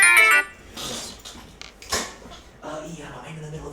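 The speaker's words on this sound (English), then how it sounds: "Pardon me, I'm receiving a phone call." A phone ringtone chimes briefly at the start, loud and close, then cuts off as a person begins talking.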